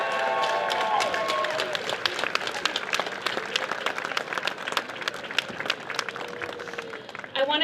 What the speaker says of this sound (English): Let's give the biggest and loudest round of applause for our cancer survivors and fighters